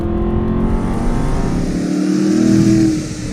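A 2006 Aston Martin V8 Vantage engine revs hard and holds a loud, throaty exhaust roar, swelling toward the end before easing off slightly.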